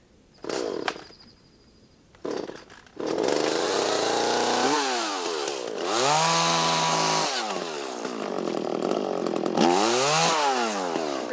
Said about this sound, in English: Definitely gonna need the chainsaw because that's got some big limbs on it.